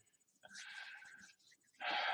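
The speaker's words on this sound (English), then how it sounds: "Is that impatient breathing I'm hearing behind me?" Impatient breathing from someone just behind a person during a live sales stream, heard as a few close, raspy breaths with a louder, noisier exhale at the end.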